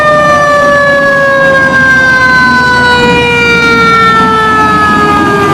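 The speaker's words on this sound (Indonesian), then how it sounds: "ada mobil pemadam kebakaran teman-teman" Toy fire engine siren wailing loudly and steadily up close, with its tone drifting slowly downward over several seconds and no other sounds competing.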